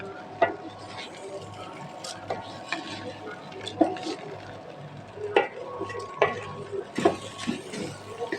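Polao rice scraped and stirred in a pan, with a spoon knocking against the metal in irregular clinks over a low, steady sizzle.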